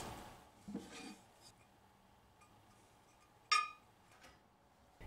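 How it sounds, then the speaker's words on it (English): Cast iron Star Wars cookie skillets clink and knock as they are set into an oven, with a soft clatter early on and one sharp metallic clank near the end, otherwise quiet. "And now into the oven"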